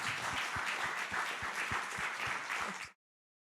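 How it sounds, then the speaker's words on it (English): Audience applauding after a talk on healthy high-performing organizations: about three seconds of dense, even clapping from a room full of people, then cut off abruptly into silence. "Can we have a round of applause, everyone?"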